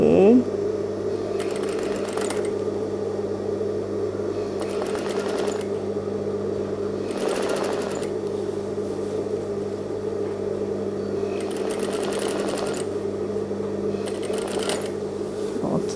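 A sewing machine stitches piping onto the collar of an A-line jubah, running as a steady continuous whir with a few louder bursts of faster stitching; a voice talks over it at times.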